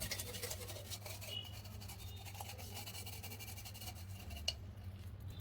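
Brass pooja utensils are scrubbed clean with tamarind and lemon, giving a fast, close, continuous rasping and brushing with a sharp clink near the end and no talk.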